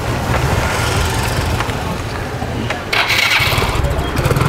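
A small motorbike scooter engine in Vietnam starts up close by and settles into a steady, buzzing idle with a rough low rumble and some wind noise.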